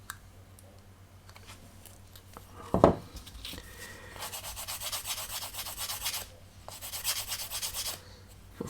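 A small sander works over a plastic part from a 1/48 Miniart Junkers F13 model kit, giving quiet bursts of dry rasping in two stretches, with a sharp click just before them.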